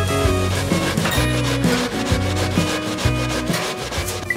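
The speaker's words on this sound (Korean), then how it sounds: "이렇게 기계 대신 강판에 가는 공을 들여야 감자에 물이 생기질 않고 찰기가" Potatoes are rubbed hard against a hand grater to make potato ongsimi, a rhythmic rasping scrape repeating in steady strokes, loud and close, over a busy kitchen with background music.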